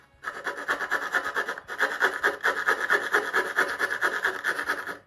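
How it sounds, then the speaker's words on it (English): Scraping a glue ridge off the horizontal stabilizer of a Top Flite .60 size P-40E Warhawk model airplane: a continuous fast rasping scrape of rapid strokes lasting about five seconds with a brief break, close and fairly loud. "I know it sounds like I'm scraping the heck out of this thing, but it's not taking a whole lot off."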